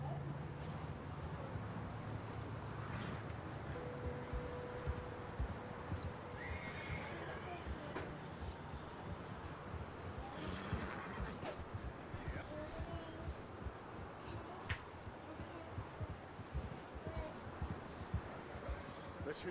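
A horse in the Red Dead Redemption 2 video game neighs among steady hoof clip-clops, set in a dense, busy game soundscape at low level, with voices talking over it.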